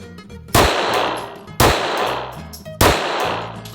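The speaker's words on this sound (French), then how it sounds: "et j'appuie sur la détente" A handgun fires three loud, sharp shots at an even pace on a shooting range, each crack ringing and decaying before the next, close to the microphone.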